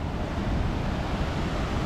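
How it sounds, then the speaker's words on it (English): Ocean waves break close to shore on the rugged west coast at Port Renfrew, British Columbia, making a steady broadband roar of surf. Wind buffets the microphone throughout, and no one speaks. "They're breaking real close to shore too, so you can see them all breaking there"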